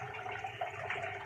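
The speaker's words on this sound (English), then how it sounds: "Just running water, nice warm water." Warm water runs steadily from a bathroom tap at the sink, a continuous soft splashing hiss with no voices over it.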